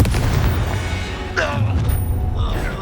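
A Confringo fire spell bursts during a wizard duel in Hogwarts Legacy, a sharp whooshing blast rising over a dense, loud rumble of combat effects, with a voice shouting nearby.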